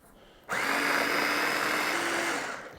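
A blender whirs loudly and steadily for a little over two seconds, chopping onion with marinade ingredients for duck barbacoa, kicking in abruptly after a quiet moment.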